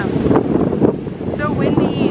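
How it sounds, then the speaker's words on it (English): Strong wind buffets and roars across the microphone throughout at a sulfur hot spring in Beitou, Taiwan, with faint voices mixed underneath the gusts. "So windy."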